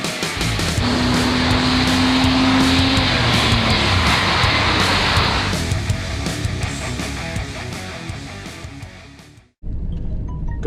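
Chevrolet Blazer on its first drive of the year, a steady close road and engine rumble with a brief whine early on, cutting out abruptly near the end before resuming.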